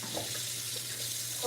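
Tap water runs steadily into a sink or tub during a hair rinse, a soft continuous wash of flow with faint shifts and a slight swell at the end, no talk over it.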